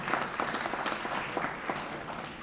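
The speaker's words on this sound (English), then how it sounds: "Let's give him a round of applause" An audience claps for an award recipient at a district community relations awards event, a dense steady round of applause from a mid-sized crowd, moderately loud and continuous.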